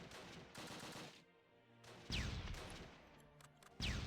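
Gunfire in the Close Combat war game, bursts of shots and impacts with whistling incoming rounds, loud and close, separated by a quieter lull near the middle.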